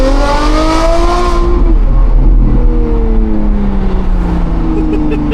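A Lamborghini Revuelto fitted with a Gintani exhaust revs hard and very loudly up close, its engine note climbing and then falling back as it downshifts.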